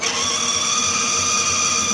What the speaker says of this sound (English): We're just drilling the second one out, and I've took the sensible option of putting a bit of coolant on.